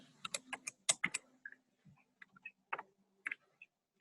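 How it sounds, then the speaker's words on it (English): Someone types on a computer keyboard during a local board of assessors meeting. The keystrokes are quiet, irregular and widely spaced, with short bursts separated by silence. "I'm just typing him a question."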